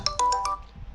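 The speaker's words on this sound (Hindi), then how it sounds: "यहाँ देखिए मेरा फ़ोन बजने लगेगा" A laptop rings for an incoming video call with a bright electronic ringtone, four quick chiming pulses in a row, close and clear, fading out at the end.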